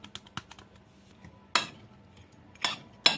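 Spoon clinking and scraping against a bowl while stirring seasoning and garlic powder into a batch for sweet potato shrimp fritters, a few sharp metallic taps separated by quiet stirring.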